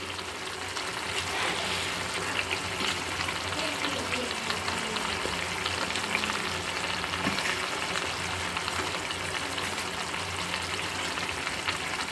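Eggs fry with potatoes in a pan for a spicy egg bhaji, giving a continuous close sizzle with faint bubbling and occasional stirring, and no speech.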